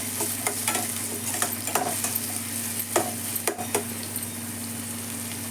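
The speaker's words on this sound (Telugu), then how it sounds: "మంచిగా సన్నగా కట్ చేసుకున్నాం. మంచిగా ఫ్రై అవుతుంది." Two large onions, thinly sliced, fry steadily in a pan with a constant close sizzle, broken by several scraping stirs and clinks of a spatula against the metal.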